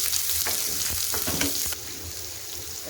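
Chopped onion, garlic and ginger sautéing in a hot pan for Kerala chicken peralan, a steady close sizzle broken by a few sharp scrapes and stirs of a spoon, with no talking.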